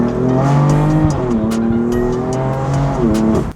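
A powerful 600hp BMW F82 M4 engine roars and revs repeatedly, pitch climbing and dropping with gear changes, loud and close with no talking.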